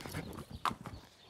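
Horse hooves shift and thud softly on the ground as a rider mounts, with a few muffled clip-clop steps and a brief sharper knock, heard close over low background noise.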